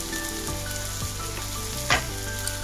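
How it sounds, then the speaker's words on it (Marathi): A tomato and spice mixture sautéing in a pan makes a steady close sizzle, broken by a couple of soft stirring scrapes and one sharper clink near the end, with no voices. "पुन्हा एकदा ते छान सगळं एकजीव परतून घ्यायचं।"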